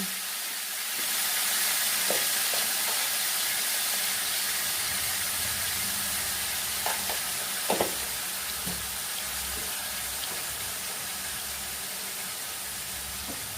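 Taro leaves added to hot oil in a pan with black cumin and salt, giving a steady close hiss of frying with a few faint clinks of stirring.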